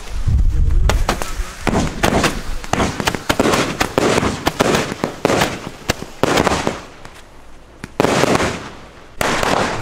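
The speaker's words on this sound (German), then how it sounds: "Davon schieße ich gleich 3 oder 4 mit einmal. Weco römische Lichter." Several Weco Roman candles fire at once, producing a loud, dense barrage of overlapping pops and cracking bursts throughout with no letup, close by outdoors.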